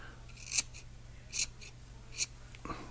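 Scissors trim excess fur off the edge of faux-fur fabric in three crisp, separate snips spaced about a second apart, close and fairly quiet with no talking.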